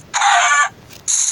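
Two loud, close Minecraft chicken clucks, a sustained squawk followed by a shorter one.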